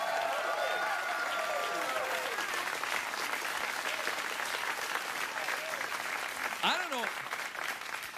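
A late-night talk show studio audience keeps up steady applause and some cheering while the host speaks over it, the clapping dense and even throughout.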